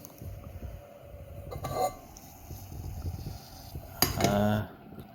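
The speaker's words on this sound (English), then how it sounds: "I'd say that's boiling. It's not a giant rolling boil, but it's boiling." Water heats to a low boil in a pot on the stove, giving a steady low bubbling rumble. A few clinks of metal and a sharper clatter sound close by near the end.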